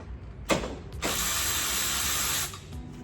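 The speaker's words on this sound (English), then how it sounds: "You just want to back these bolts up a little bit." Ratchet wrench backing off turbo housing bolts on a car: a sharp click near half a second, then a steady, loud buzzing ratchet run of about one and a half seconds that stops abruptly, with no talking.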